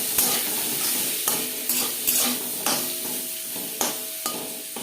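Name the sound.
frying bitter gourd with turmeric and salt in a pan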